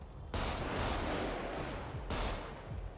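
Gunfire from a played street shootout recording, a dense burst of loud, crackling shots filling most of the clip with two sharp new volleys, no talk.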